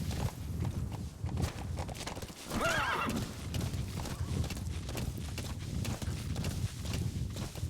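In Metal Gear Solid V, a horse whinnies loudly over a steady clip-clop of hooves walking, with rhythmic footfalls continuing throughout.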